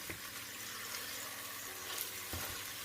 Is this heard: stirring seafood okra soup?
yes